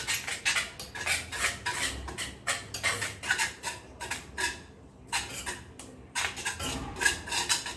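Banana cake batter flavoured with strawberry essence is stirred briskly in a bowl, giving a steady run of scraping, clinking utensil strokes against the container, close and fairly quiet with short pauses.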